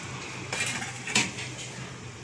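A metal lid is set onto a cooking pot of mutton liver gravy, giving a few sharp nearby metallic clanks and rattles in quick succession, alone without talk.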